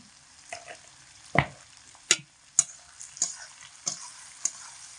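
Food stirred with salt and turmeric in a pan for bean-leaf paturi over medium heat: a series of distinct scraping taps and clicks from the spoon against the pan over faint, quiet sizzling, close by.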